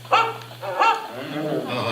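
A dog, part of the animatronic Carousel of Progress show at Magic Kingdom, gives two sharp barks close together, then a softer whimpering yip, over a low steady hum.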